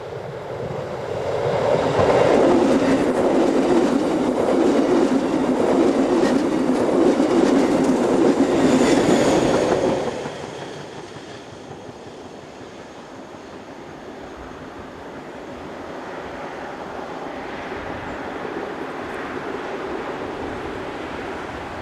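An ÖBB Class 1142 electric locomotive heading a passenger service toward Schladming passes, loud rolling rail roar and clickety-clack peaking for several seconds, then fading to a softer, receding rumble.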